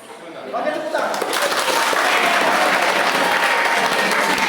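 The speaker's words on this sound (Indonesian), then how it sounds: "Oke, tepuk tangan." A classroom of students bursts into applause after a biology lesson on digestion, broadband clapping building quickly and holding steady and dense to the end, with a voice faintly underneath.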